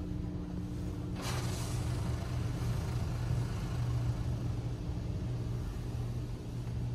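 Mark VII touch-free automatic car wash at a Circle K in Cypress, Texas, running its wheel scrubber cycle: a steady loud rumbling hum of machinery and pressurized spray, with a brief hissing burst near the start and no talk.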